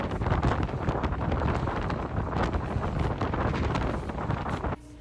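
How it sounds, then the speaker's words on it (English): Strong wind on an island in New York City buffets the microphone in a loud, constant roar with gusty surges, cutting off abruptly just before the end. "This was the wind."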